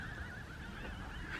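A flock of birds calls near a campsite just outside Grand Canyon National Park, giving steady, wavering goose-like honks that overlap continuously for the whole short stretch, with no talking.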